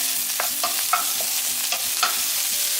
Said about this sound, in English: Stir fry until the onion gets very soft.